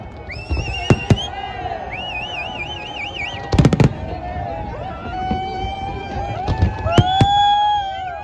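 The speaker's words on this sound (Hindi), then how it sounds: "आप देख ही रहे हो हमारे बैकग्राउंड में कितने प्यारे पटाखों के" Fireworks and firecrackers burst at a Dubai New Year celebration, sharp cracks and pops in scattered clusters over crowd noise, with whistling and siren-like tones and people talking nearby.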